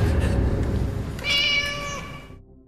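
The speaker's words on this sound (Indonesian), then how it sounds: "suara itu berasal dari seekor kucing" A single drawn-out cat meow, loud and close, rising over a rumbling low background and fading out at the end.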